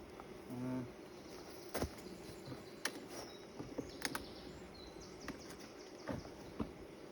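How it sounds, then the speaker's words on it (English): Bees buzz around an opened beehive super during a hive inspection, a low continuous drone broken by sharp knocks and clicks of handling the hive. "Oh, there's a lot of bees up here."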